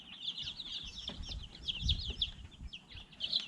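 Baby chicks, including Rhode Island Red and rising star chicks, peep in quick, high-pitched bursts close by, with soft rustling and low bumps underneath.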